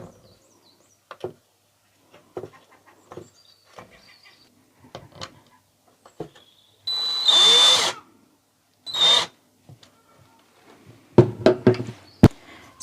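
A power drill driving screws through wooden pegs in a home DIY decor project, two short loud whirring bursts amid scattered taps and knocks of handling, with a final sharp clatter.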